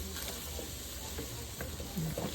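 Milk being stirred into flour in a pot for a one-pot meal, a soft continuous scraping swish of the spoon against the pot over low bubbling, close and quiet, with no speech.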